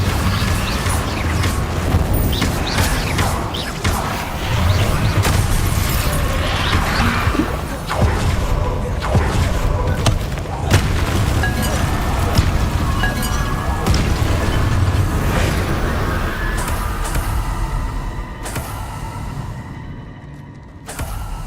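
Booming magical spell blasts and crashes from Hogwarts Legacy combat, loud and dense, with whooshes and impacts layered over a continuous game soundscape that fades near the end.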